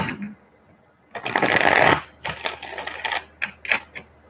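Tarot cards being shuffled in a few quick riffling bursts during a live reading, close and crisp, with short pauses between them and no talking.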